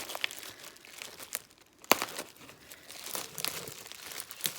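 Packaging for an Atlas 180 pasta machine is unwrapped, giving close, quiet crinkling and rustling with a few sharper tearing crunches scattered through.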